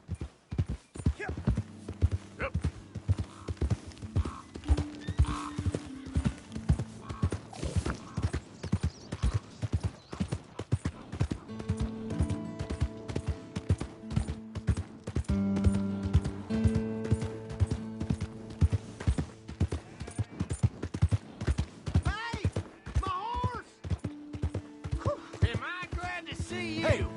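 Horse hooves clip-clop in Red Dead Redemption 2 in a steady, close, rhythmic gait that lasts throughout, with a brief whinny and background game music.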